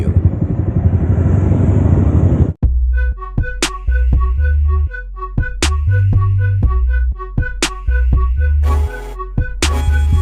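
Yamaha Sniper 155 motorcycles run during a club meetup stopover. A loud, close engine rumble runs for a couple of seconds, then cuts off sharply, followed by a string of short bursts and intermittent tonal beeps.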